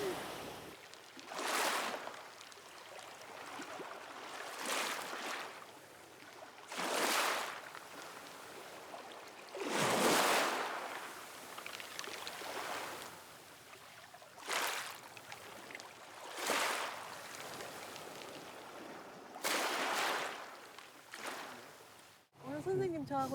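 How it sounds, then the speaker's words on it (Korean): Waves washing in and out over rounded pebbles on a beach at Bangeojin, Ulsan, a rhythmic series of hissing, rattling surges every few seconds, steady and close. "여기는 이제 파도가 들어왔다 나갈 때 몽돌 구르는 소리가 굉장히 일품입니다"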